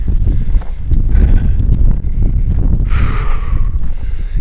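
Strong wind buffets the microphone with a constant low rumble and roar, gusting throughout.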